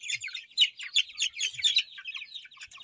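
Many small chicks peep and chirp in a busy, high-pitched chorus, continuous and fairly close, with no talking.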